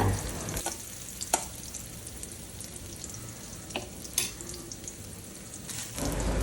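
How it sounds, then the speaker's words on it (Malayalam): Small coconut pieces fry in a pan, a steady close crackling sizzle with occasional sharper pops and stirring scrapes, with no talking. "ഇനി കുറച്ച് തേങ്ങാക്കൊത്ത് ഇട്ട് കൊടുക്കുന്നുണ്ട്."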